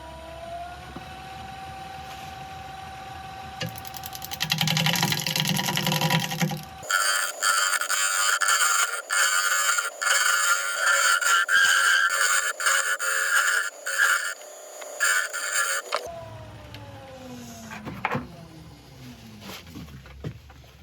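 Carbide tool turning wood and epoxy resin on a lathe, a steady motor hum with a harsh scraping, hissing cut that swells loud for several seconds, then eases back to the running lathe.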